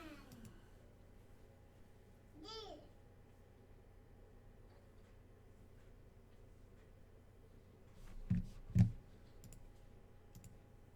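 Clicks of a computer mouse on a Submit button come as a couple of quick, faint clicks near the end, after a long, nearly silent stretch.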